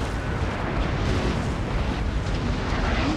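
Artillery cannon fire on a battlefield in Napoleon Total War, heard as a dense, rumbling wall of distant booms and blasts that continues without a break.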